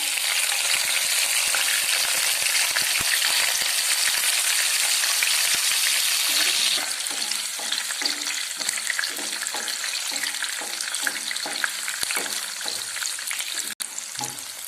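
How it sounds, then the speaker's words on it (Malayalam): Green chili, garlic, ginger, ground fenugreek and mustard sauté in hot oil left from frying fish for kera fish pickle, a loud steady sizzle that eases after a few seconds into softer frying with scattered stirring clicks. "വറുത്ത എണ്ണയിൽ തന്നെ പച്ചമുളക്, വെളുത്തുള്ളി, ഇഞ്ചി, ഉലുവായും കടുക് പൊടിച്ചത് എല്ലാം കൂടി ഇട്ട് വഴറ്റിയെടുക്കുകയാണ്"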